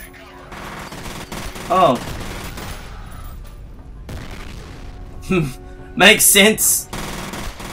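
Gunfire from the shooter game F.E.A.R. comes as several short, loud bursts, one near two seconds, another near five, and a rapid cluster after six seconds, with a few brief spoken words between them.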